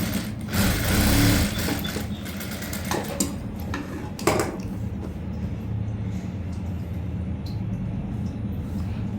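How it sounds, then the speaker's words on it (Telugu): A sewing machine stitches over the joint of a prince-cut blouse, running in a steady close mechanical whir with a brief louder burst near the start and a small knock midway. "ఆ జాయింట్ పైనుంచి స్టిచ్ వేసుకోవాలి."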